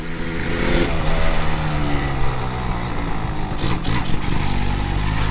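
A Yamaha DT 200 two-stroke motorcycle engine runs close by, a loud steady buzzing idle with slight revs and no talking over it.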